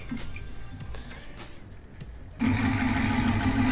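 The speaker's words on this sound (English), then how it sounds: "this throws down a much more solid stitch, and it's 10 times faster than my Singer M1000" A Singer M1000 sewing machine starts stitching, a steady, loud motor hum with rapid needle rhythm that picks up abruptly after a quieter stretch of mechanical ticking and handling.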